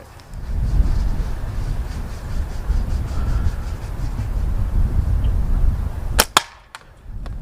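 Homemade natural slingshot cut from a tree fork fired outdoors, a sharp crack near the end over a steady rumbling background of wind or ambient noise.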